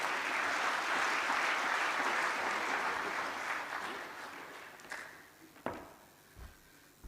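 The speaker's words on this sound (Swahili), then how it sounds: "Tuongeze tena makofi kwa msajili wa hazina." An audience at a public government event applauds in a dense, sustained burst that fades over several seconds into a few scattered claps and knocks, with no voices.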